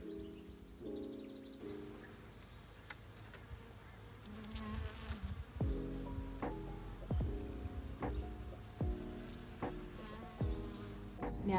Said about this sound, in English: there's all of these little bumblebees and bees the whole way along this hedgerow